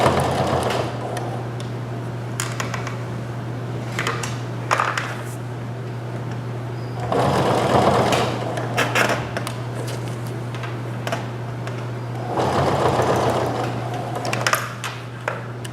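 A sewing machine set to a very narrow zigzag stitches a hood onto a sweatshirt, running as a steady close mechanical whir with a low hum, broken by short pauses and fabric rustling.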